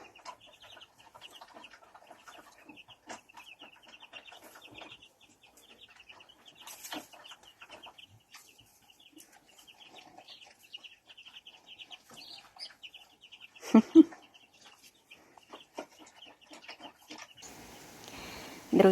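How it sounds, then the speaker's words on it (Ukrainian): Broody mother hen scratching about outdoors with her young chicks, giving soft repeated clucks beneath a steady thread of high chick peeping, with a couple of louder bumps and a burst of rustling near the end. "Мама квочка шукає черв'ячок, напевно."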